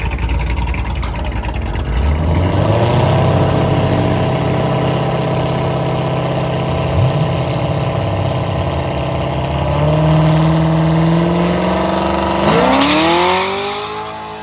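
Corvette C7 engine running loud and close, idling at first, then revving up with a rising pitch and climbing again near the end.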